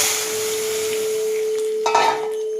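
Hot oil tempered with a chilli and five spices poured into lentil dal with bottle gourd, a steady sizzle under a constant hum that swells into a brief louder hiss and clatter near the end.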